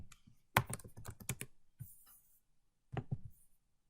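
Typing on a computer keyboard at a terminal in Vim, two quick bursts of close clicking keystrokes separated by a pause, with a lighter tap or two between.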